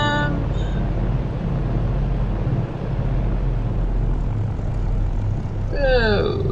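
A plane in Flight Simulator X taxis with a steady, loud droning engine hum and a low rumble throughout, and someone talks briefly at the start and end.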